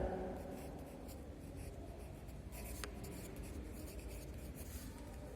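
A pen writing an answer on paper, a steady close scratching that runs throughout at low level with no talk over it.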